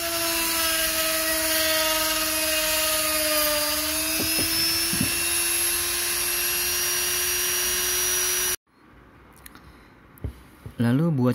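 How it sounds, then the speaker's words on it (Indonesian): A hand drill whines steadily for several seconds while sanding drilled holes in plywood, then cuts off, followed by quieter rustling and scraping. "di sini saya lebih memilih untuk menggunakan bor tangan"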